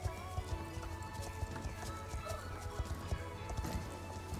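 Horse hooves clip-clop steadily in the video game Star Stable Online, a continuous rhythmic gait close up over a busy, loud game soundscape.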